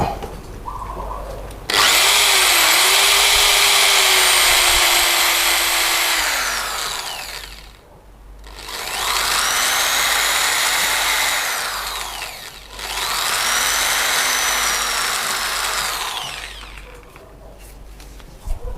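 A power drill bores into a wooden pole head in three long bursts, each a loud high whine that rises as the motor spins up and drops away between passes, heard at close range.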